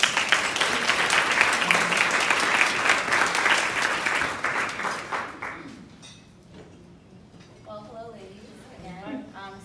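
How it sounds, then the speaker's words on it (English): Audience applause for the panelists of a women-in-music panel, loud and dense for about five seconds before fading out, with a voice beginning to talk as the clapping dies away. "So please give a round of applause for our panelists."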